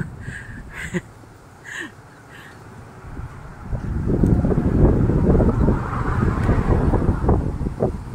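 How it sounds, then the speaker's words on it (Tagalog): Strong wind gusting and roaring against the microphone, building after a quieter start and staying loud and steady, with a few faint bird calls early on. "lakas ng hangin"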